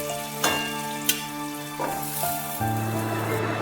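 Potatoes fry under a lid in a home-style pan, a steady soft sizzle running throughout, punctuated by a couple of brief clanks and knocks near the start and middle.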